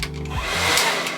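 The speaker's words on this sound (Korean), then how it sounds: "서서 화장을 하면서 동시에 이 드라이기를 키면" A hair dryer in a bathroom switches on with a brief rising whir, then settles into a loud, close, steady rushing blow of air.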